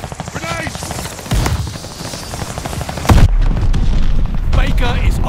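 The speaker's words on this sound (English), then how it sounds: "Grenade!" A grenade blast and bursts of gunfire ring out in Call of Duty: Vanguard, a loud boom landing mid-way with rattling fire and battle noise around it while voices shout over the combat.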